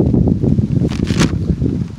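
Gusting wind buffets an outdoor microphone, loud low-pitched rumbling bursts with a rustling hiss in brief swells, close and continuous.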